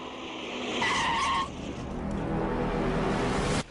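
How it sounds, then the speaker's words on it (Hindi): A car's wheels spin and squeal as it sits stuck in a pothole on a village road, a loud screeching whine with engine roar that surges, eases, then keeps grinding before stopping. "लगता है गड्ढे में फंस गई गाड़ी।"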